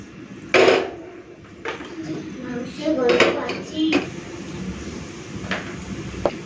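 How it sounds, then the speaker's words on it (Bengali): A metal pressure cooker being moved around a home kitchen, giving a few sharp clanks and knocks with scraping between them, near and moderately loud. "প্রেসার কুকারটা এদিকে নিয়ে আসি।"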